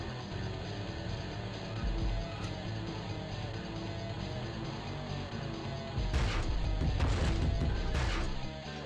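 Cars crash into a bus in the racing video game San Francisco Rush, a loud burst of smashing impacts near the end over steady engine roar and game sound.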